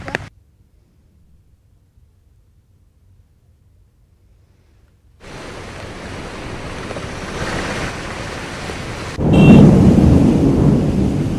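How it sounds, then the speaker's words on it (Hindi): Heavy monsoon rain after an orange weather warning, with lightning cracking overhead: a short crack, several seconds of quiet, then steady loud rain that swells into a close, booming roll of thunder near the end. "मौसम विभाग की ऑरेंज चेतावनी की कुछ ही देर बाद जो बारिश हुई, आसमानी बिजली भी कड़क रही थी"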